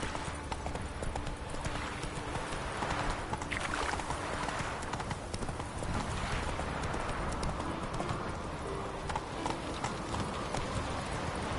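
Roach the horse trots in The Witcher III, its hooves clip-clopping in a steady rhythm for the whole stretch over a busy, noisy game background.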